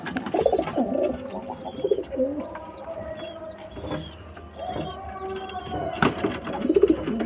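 Pigeons coo in soft, rolling bursts, joined by a newly arrived guest pigeon, with overlapping calls and faint background clatter close by.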